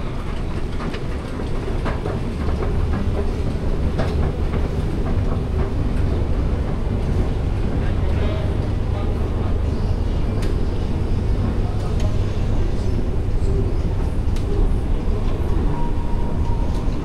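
An MRT metro train in Kuala Lumpur rumbling along its rails at rush hour, a loud, continuous low roar with rhythmic wheel clatter, heard from close by without a break for the whole stretch.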